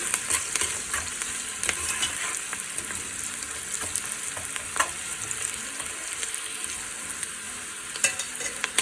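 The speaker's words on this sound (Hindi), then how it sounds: "प्याज हमारा लाइट ब्राउन हो रहा है।" Sliced onions sizzle steadily in hot oil while being browned for a red kidney bean lobia curry, with occasional sharp crackles and utensil scrapes over a continuous frying hiss.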